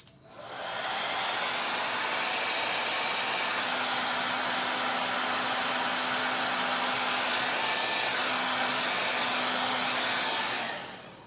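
A handheld hair dryer blows on a chalk transfer, a loud, steady, close whoosh that starts abruptly, holds an even hum for about ten seconds, then cuts off, with no voices.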